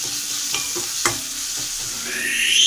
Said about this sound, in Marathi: आता कांद्याला आपल्याला चांगलं तेलामध्ये फ्राय करून घ्यायचं परतवून घ्यायचं छान गोल्डन रंग येईपर्यंत